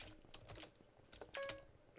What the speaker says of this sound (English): I started typing friend instead of party.